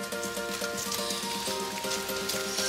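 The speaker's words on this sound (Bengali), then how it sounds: "দেখো তোমরা, বৃষ্টি অনবরত পড়েই যাচ্ছে।" Rain falls without pause over a forest stay in Deoja, Darjeeling, making a steady, even patter throughout, with a faint tonal hum beneath it.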